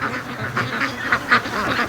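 Ducks in a long line on a lake quack repeatedly in short bursts, close by, from a kayak on a nice day.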